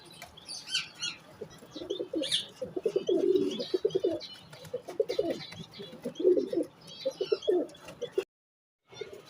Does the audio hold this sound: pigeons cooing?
yes